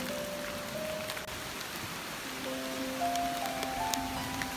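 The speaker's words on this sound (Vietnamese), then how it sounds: "Mưa rất là nặng hạt trong rừng." Steady heavy rain patters on leaves and surfaces in a forest, a dense continuous hiss with scattered drips, with no voices.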